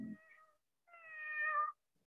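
A cat meows twice, a short call followed by a longer, drawn-out one, close and clear with nothing else around it.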